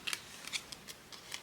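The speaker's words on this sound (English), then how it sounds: "Let's cut that there." Several quick, crisp snips of scissors cutting paper while pages are assembled for a junk journal, close and fairly quiet, spaced irregularly over a short stretch.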